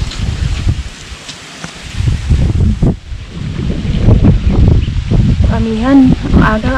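Amihan northeast monsoon wind gusts across a coast, roaring and buffeting the microphone in uneven surges, with water and rustling underneath and people talking over it close by.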